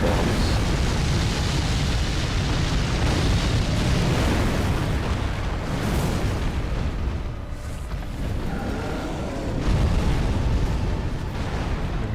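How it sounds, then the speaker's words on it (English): Fire bombs exploding in the video game Dark Souls 3, a dense roaring wall of booming blasts and fiery rumble that stays loud throughout, dipping briefly before surging again. "Those are fire bombs."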